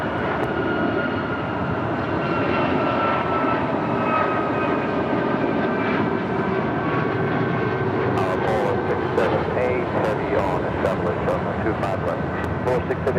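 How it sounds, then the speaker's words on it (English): A United Airlines Boeing 737 MAX 9 takes off from LAX, its engines giving a loud, sustained roar that holds steady throughout, with faint clicks toward the end. "This is United Airlines 279 taking off to Tampa, Florida on a MAX 9"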